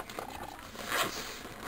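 A zipper is drawn along a DVD case in a short, close scratchy rasp, rising into a brighter burst midway and then trailing off.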